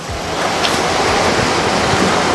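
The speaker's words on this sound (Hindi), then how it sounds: "वो ढक्कन से पानी निकलेगा" Water gushing out through the lid of an unbreakable plastic water camper at a manufacturing factory, a steady, loud rushing splash that runs alone and unbroken for the whole stretch.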